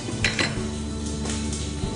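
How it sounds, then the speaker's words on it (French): Sliced onion, celery and leek being stirred in a pan, with utensils scraping and clinking against the metal over a soft, steady sizzle. "On commence déjà à remuer un petit peu."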